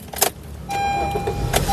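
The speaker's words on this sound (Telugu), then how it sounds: "సింగిల్ సెల్ఫ్లో కార్ స్టార్ట్ అవుతుంది" A 2019 Honda Amaze S manual car starts on the first crank after a faint click, then settles into a steady idle close by.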